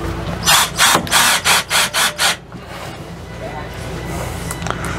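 A power drill drives screws to fasten ductwork into an RV air conditioner base, giving about six short whirring bursts in quick succession up close, then quieter handling noise.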